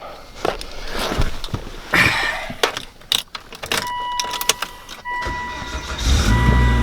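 A 2004 Volvo S60R starts up. Keys jangle and clicks sound first, then dashboard chime tones ring, and the engine catches near the end with a rising low rumble.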